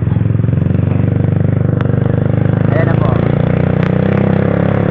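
A motorcycle engine idles steadily up close with a low, continuous rumble, while a person speaks briefly over it.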